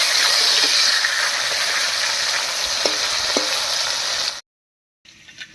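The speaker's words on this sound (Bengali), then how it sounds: "আপনারা দেখতেই পাচ্ছেন মাছগুলো ভাজছি কিন্তু তেল ছুটছে না" Steady hissing sizzle of pangas fish frying in hot oil, with a few faint clicks, then a sudden cut to near silence before the sizzle returns briefly.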